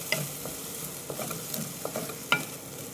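Butter sizzling in a pan with chopped small onions being sautéed, a steady soft frying hiss broken by occasional stirring scrapes and clicks, close and moderately quiet with no talk.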